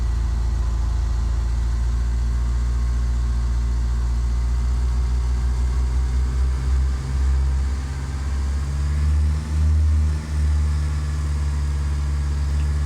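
Light aircraft piston engine brought up to 1800 rpm during a pre-flight run-up, a loud steady low drone with the pitch and level dipping briefly a few times near the end, no talking over it.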